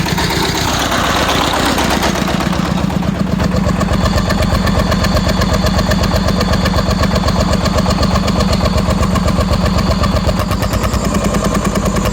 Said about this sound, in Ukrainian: Давайте ще турбінку послухаєте.